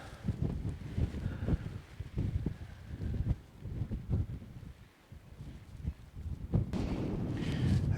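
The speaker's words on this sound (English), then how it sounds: "the wind has really picked it up right now" Strong wind gusting high on an open, treeless desert lookout in Utah's La Sal Mountains, a loud continuous rumble and buffeting against the microphone that swells and dips, with no voices.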